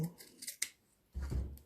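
Scissors trimming a fabric seam edge while sewing a French seam, a few crisp close snips in quick succession followed by a soft rustle of cloth.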